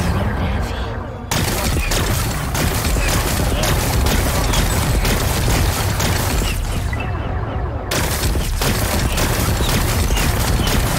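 Plasma cannon firing in the video game Horizon Forbidden West, a loud, dense stream of rapid blasts that runs almost without pause, with a couple of brief breaks, and someone talking over it.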